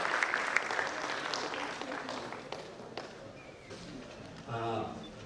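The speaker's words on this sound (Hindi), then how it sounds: "एक बार जोरदार तालियों से फिर से इसका आगाज किया गया" Scattered applause rises from an audience at a formal ceremony, uneven and moderately distant, with people talking over it and a louder voice coming in near the end.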